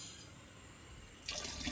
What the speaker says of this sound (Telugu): ఇది ఇప్పుడు బియ్యం కడిగిన వాటర్లో పోసేస్తానండి